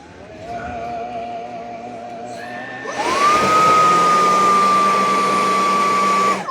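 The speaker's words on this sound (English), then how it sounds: "Soaking the roller." A Roborock F25 Ultra wet-dry vacuum hums at a low idle, then its motor ramps up into a loud, steady whine with a rising tone as it soaks its roller, holding close and constant to the end.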